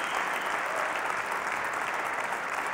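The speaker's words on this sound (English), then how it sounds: "The reaction of the crowd says it all." A squash tournament crowd at the 2015 Tournament of Champions applauds, dense sustained clapping filling the arena evenly throughout.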